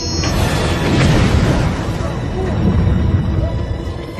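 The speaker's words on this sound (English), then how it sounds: "We've had an explosion in the core shuttle." A sci-fi TV sound effect of an explosion aboard a space shuttle: a loud rumbling blast bursts in at once, then a sustained roaring, crackling rumble slowly decays over a few seconds.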